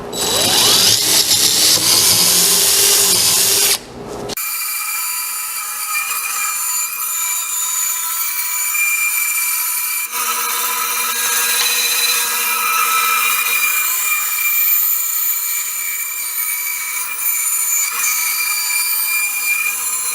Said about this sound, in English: drill the hole right now.